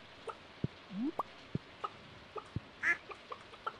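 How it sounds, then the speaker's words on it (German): Ducks and chickens on a farm in the video game Stardew Valley: scattered single quacks and clucks at irregular intervals, with soft footstep-like ticks over a quiet background. "Dann sagen wir kurz den Enten und Hühnern Hallo."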